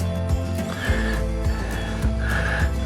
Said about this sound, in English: You can hear the horses in the background.